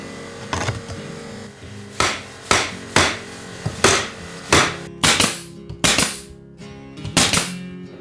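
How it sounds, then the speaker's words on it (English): Wooden floorboards installed in a home renovation, with about a dozen sharp hammer-like knocks landing in an irregular rhythm, close and loud, with no talking. "Now I install the second floorboard and then the rest of them."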